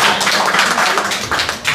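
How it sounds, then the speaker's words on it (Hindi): Audience at an Urdu mushaira in London applauding, a dense, continuous patter of many hands clapping, loud and sustained with slight swells. "भरपूर तालियां बजाइए इस महफ़िल के लिए।"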